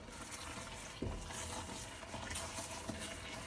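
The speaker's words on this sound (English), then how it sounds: "We're gonna sit here and we're gonna stir this pot." Shrimp etouffee being stirred in a pot for a Cajun dish, a steady soft scraping and bubbling sizzle throughout with a brief louder clunk of the spoon near the start.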